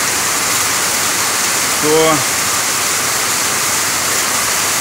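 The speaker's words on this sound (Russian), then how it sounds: "самая настоящая стена дождя" Torrential rain pours down as a dense wall of water in a village below the Caucasus mountains, a loud, steady close hiss filling the whole clip, with a brief spoken word partway through.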